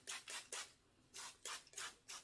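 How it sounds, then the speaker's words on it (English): Six quick, hissing bursts from a spray bottle misting plain water onto hair, close and fairly soft, in an uneven rhythm with short pauses between squirts and no talking. "Start off with just a spray bottle. It's just water in here, and I'm gonna get my hair a little damp"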